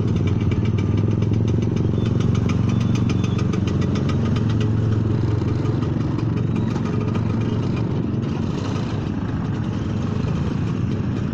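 A classic Vespa scooter engine runs steadily close by, a continuous low, slightly clattering putter at constant loudness with no talking.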